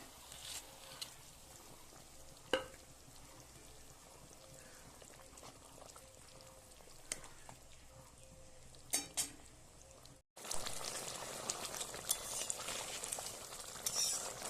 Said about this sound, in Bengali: ঝোলটা ফুটে গেছে, মাছগুলো দিয়ে দেবো।